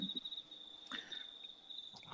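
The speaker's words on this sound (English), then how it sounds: "There's those crickets." Crickets chirp in a continuous high, thin trill that stays steady throughout, fairly faint, with a few soft background noises and no talking.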